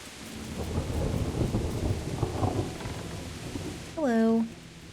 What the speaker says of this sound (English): I like when there is rain in the game.